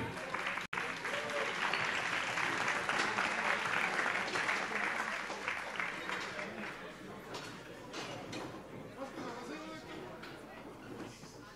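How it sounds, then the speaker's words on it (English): An audience at a tech conference on future cities breaks into sustained, full applause that stays loud for several seconds. It then gradually thins and softens toward the end. "an applause for our people"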